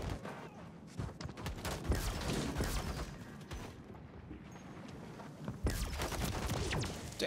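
Ray gun blasts from a Modern Warfare 3 multiplayer match, Vortex event, mixed into dense gunfire: repeated sharp bursts and booms over a busy, continuous battle din.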